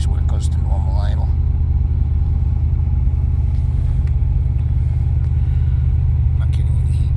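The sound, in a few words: Porsche 951 LS V8 engine idling during cold-start warm-up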